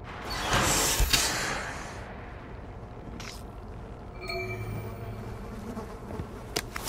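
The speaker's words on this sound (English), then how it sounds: "Just find some bees, suck them up, go to the flowers, spit them out." Bees buzz in the video game We Happy Few, a droning insect hum with a louder swell near the start, then fainter whooshes and game sounds later.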